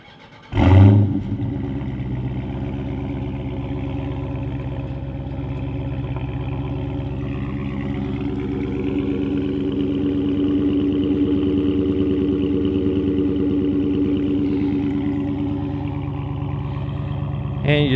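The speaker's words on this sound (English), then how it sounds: "So let's go ahead and double tap the remote start." A 2017 Dodge Charger Daytona 392 V8 engine remote-starts with a sharp burst, then settles into a steady, rumbling idle that swells slightly partway through and continues close by.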